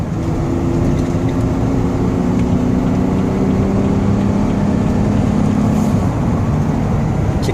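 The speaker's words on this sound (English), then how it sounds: "give it some gas so you can hear the engine wrap out" Chevy Uplander van engine revving as it accelerates, a steady loud drone with rising tonal whine sustained throughout, road and wind noise underneath, no talking.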